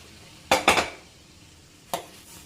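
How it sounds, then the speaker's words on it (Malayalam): A utensil clanks against a pot as roasted vermicelli goes into boiling milk and gets stirred: two quick metallic knocks close together, then a single clank a moment later, close and fairly loud, with no talking. "ഈ സമയത്ത് നമുക്ക് നമ്മൾ റോസ്റ്റ് ചെയ്ത് വെച്ചിരിക്കുന്ന വെർമിസെല്ലി ഇതിലേക്ക് ഇട്ട് കൊടുക്കാം"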